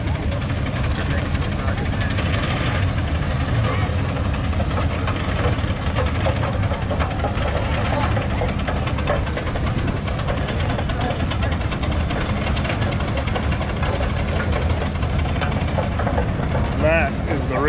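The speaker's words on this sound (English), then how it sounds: "that is the real deal when it comes to a steam engine." An old steam engine runs at an antique show near a steam-powered sawmill, giving a steady loud chugging and knocking rumble with machinery vibration throughout, while people talk in the background.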